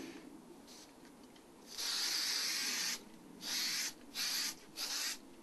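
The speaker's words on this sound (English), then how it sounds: "Okay, this is spray adhesive." Spray adhesive hisses from an aerosol can onto the back of a shirt stencil in several close bursts: one long spray followed by three shorter ones, with quiet pauses between.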